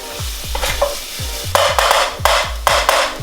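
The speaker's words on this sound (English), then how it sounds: "While I'm sauteing the garlic and onion, I'm just gonna add in to taste." Garlic and onion sauteing in olive oil in a pan for pizza sauce, with a sizzling hiss broken by repeated scraping stirs of a utensil against the pan in a quick, regular rhythm.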